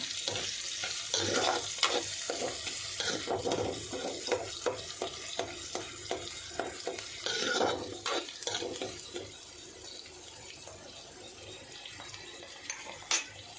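Onion and green chilli tempering for a ridge gourd curry sizzles in a pan while a spoon stirs and scrapes through it in steady, repeated strokes, close and fairly loud, easing off toward the end.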